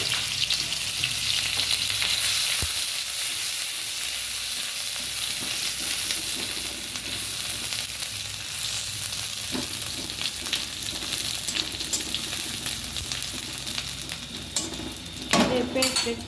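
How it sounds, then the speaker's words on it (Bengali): Onion paste fries in hot oil for a puti fish curry, a loud, steady close sizzle with occasional scraping of a stirring utensil against the pan and a few clinks near the end, no talk. "তেলটা একটু গরম হয়ে যাক। তারপর একটু পেঁয়াজ বাটা দিচ্ছি"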